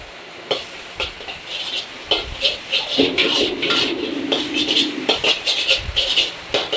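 Soy sauce sizzles in a hot wok while a utensil scrapes and stirs in quick, irregular strokes.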